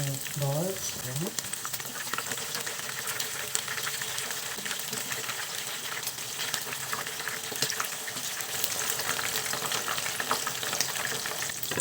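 Meatballs frying in hot oil in a pan, a dense crackling sizzle that runs steadily throughout, with a brief faint voice near the start.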